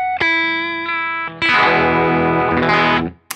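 Clean electric guitar through a compressor pedal: a sustained, evenly held note rings out, then a full strummed chord blooms and holds steady before cutting off. The playing is loud and close, with no voices.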